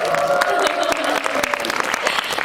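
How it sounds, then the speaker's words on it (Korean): Applause and cheering from a theatre audience welcoming the playwright and actors to the stage for a post-show talk, loud continuous clapping with sharp individual claps and raised voices over a close crowd. "박수와 함성을 한번"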